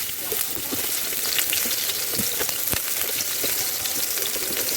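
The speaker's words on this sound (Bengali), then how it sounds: "পেঁয়াজ ভাজা হয়ে গেছে।" Onions sizzling and frying in hot oil in a pan for noodle vegetables, a steady close crackle with occasional stirring scrapes throughout.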